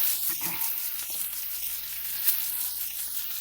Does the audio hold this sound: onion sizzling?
yes